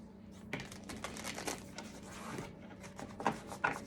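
Tarot cards being shuffled, a run of soft riffling and papery slaps in irregular bursts, quiet and close, with no talking.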